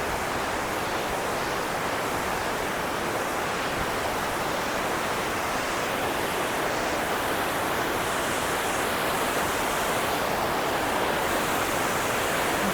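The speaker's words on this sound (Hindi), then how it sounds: "अब चलते हैं झरने के पास" A mountain waterfall on the route to Sach Pass roars continuously, a loud, unbroken wash of falling water that stays even throughout with no voices.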